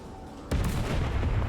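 A 120mm gun in Beach Invasion 1945 Pacific fires once with a sudden heavy boom that cuts through the low battle rumble and then rolls on as a sustained thundering roar.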